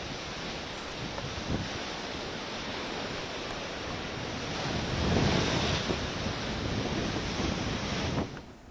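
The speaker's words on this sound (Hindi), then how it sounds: "समुद्र में हाई टाइड की स्थिति है और वहाँ पर ऊंची ऊंची लहरें इस वक्त उठ रही हैं।" High waves pound the Mumbai coast at high tide during Cyclone Biparjoy, a continuous loud roar of surf with wind buffeting the microphone and a heavier surge swelling midway.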